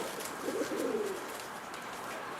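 A Mardin pigeon gives one rolling coo phrase, close and clear, followed by a quieter stretch of steady background hum with no voices.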